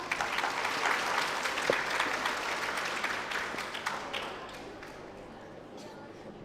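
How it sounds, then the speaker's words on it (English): Applause from an audience fills the room, steady and dense clapping that gradually thins and fades toward the end. "Let's give a round of applause to contestant number 1."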